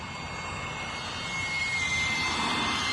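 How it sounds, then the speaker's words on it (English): A UMX A10 radio-controlled model airplane flies slowly overhead, its small motor giving a steady, thin whine that grows slightly louder over three seconds. "You can see just how slow I can get this plane to fly."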